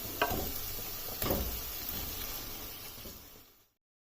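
Cooked mutton goes into a pan of fried masala for malai boti, giving a steady close sizzle with a couple of sharper scraping stir strokes near the start, then fading out.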